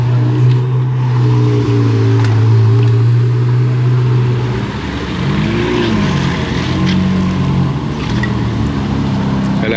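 A Ferrari F430 Spider sports car in Monaco gives a loud, close engine note, holding a steady hum before a brief rev that rises and falls, then settling into a lower drone.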